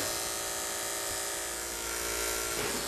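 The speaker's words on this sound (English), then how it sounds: "So it would just be the first 2 teeth of the clipper that we're using to get our design" Electric hair clippers buzz continuously up close while their first two teeth cut a design into hair, a steady motor drone with a faint shift in tone near the end.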